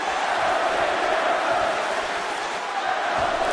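A wrestling arena crowd roars and cheers for Dolph Ziggler in a match against Randy Orton, a dense and loud wash of cheering that holds steady throughout.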